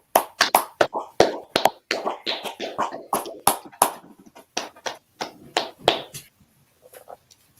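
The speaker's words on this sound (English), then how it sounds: "let's clap it up" A small audience at the end of a Tuesday night brotherhood class claps in loose, uneven bursts, the sharp hand claps close and fairly loud, thinning out and stopping toward the end.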